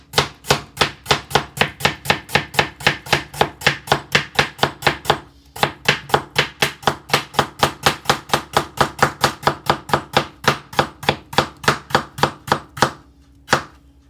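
A knife chops vegetables on a cutting board in a fast, even rhythm of sharp, close knocks, pausing briefly twice before resuming, with no voices.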